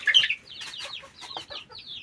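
Backyard chickens kept in a cold-weather coop cluck close by in a quick run of short, overlapping calls, moderately loud with no one speaking.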